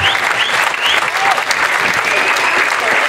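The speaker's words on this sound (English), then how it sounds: "so keep the claps going" Loud, steady applause from an audience at an academy awards evening, dense continuous clapping with a few whoops and cheers rising above it.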